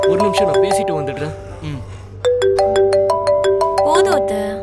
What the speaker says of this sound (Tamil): ரெண்டு கிட்ட இருந்து ஃபோன் வந்திருக்கு.